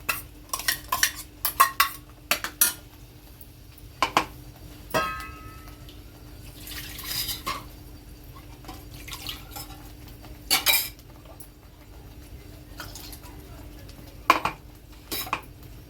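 A spoon scrapes and clinks against a metal pot while boiled, blended tomato puree is stirred into a tomato curry, sharp clatters coming in irregular bursts over a quiet kitchen background.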